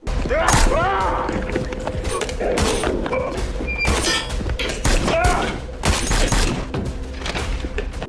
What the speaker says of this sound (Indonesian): Robert perlahan mengambil senjatanya hingga terjadilah aksi tembak-menembak